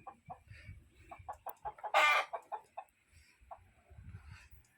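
A chicken at a resort clucks in a series of short, uneven calls, with one louder squawking burst in the middle, close by with faint background noise.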